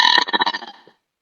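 A girl lets out a loud, close, guttural burp with a rattling, pulsing texture lasting under a second before cutting off to silence.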